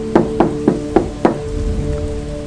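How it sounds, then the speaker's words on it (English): Five loud, evenly spaced knocks on a window ring out near and sharp, followed by a quieter, fainter tap or two and low background hiss. "more knocking."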